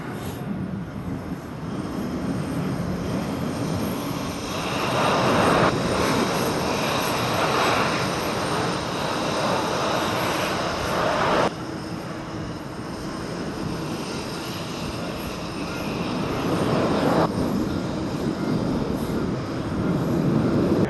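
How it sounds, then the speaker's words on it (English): One of the world's biggest jets roars steadily through a long, very wet takeoff, a loud, sustained engine rumble with broad rushing noise that swells slightly as it goes. "one of the world's biggest planes executes an extremely wet takeoff"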